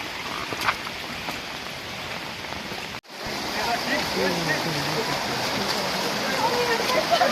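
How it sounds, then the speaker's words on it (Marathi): A mountain stream flows on the trail up to Karnala Fort near Panvel, a steady broadband wash of water throughout, briefly cut out at one point then resuming slightly louder. "समोरच एक झरा आम्हाला भेटला आहे"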